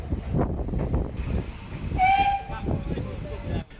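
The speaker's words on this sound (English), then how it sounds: "This one is a BR Class 2, number 78019, with the 1411 service to Loughborough." BR Class 2 steam locomotive 78019 pulls into a platform with a hissing rush of steam, rhythmic chuffing and a brief whistle tone in the middle, heard at moderate distance.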